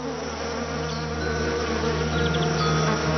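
Dense, continuous buzzing of many bees hums steadily throughout, loud and close, with no other sounds rising above the swarm.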